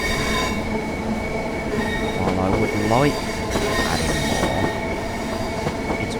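A train runs in the video game Train Sim World 5, with rumbling wheels, rhythmic clickety-clack and squealing as it moves along, while someone talks over the train noise.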